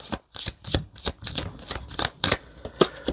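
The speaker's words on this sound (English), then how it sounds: "I'm going to do 2 more shuffles" Rapid rippling flutters of cards being shuffled, repeating in quick crisp bursts, close and clear with no voices.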